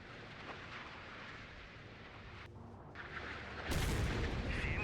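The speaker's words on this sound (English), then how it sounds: "We have 4 more missiles coming in to deal with them." Missiles striking a warship in the naval combat game Sea Power, heard as a heavy explosive boom that erupts partway through over a steady low battle rumble, with no voices.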